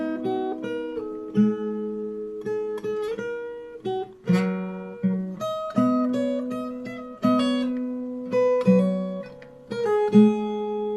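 Fingerstyle acoustic guitar plays a phrase of a song, clear plucked notes and two-note pairs ringing out one after another at a relaxed pace, close and alone with no talking.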